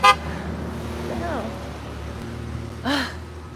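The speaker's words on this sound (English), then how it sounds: "men in big trucks, they love to honk" Horn blasts from a big truck on a roadway, one short toot at the start and another fuller honk near the end, heard outdoors over steady traffic rumble with a faint voice in between.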